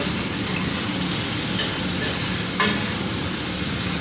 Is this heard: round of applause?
no